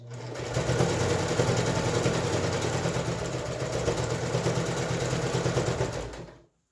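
A sewing machine stitches face mask pleats in one continuous straight run, a close, steady rapid whirring clatter that holds level for several seconds before stopping abruptly.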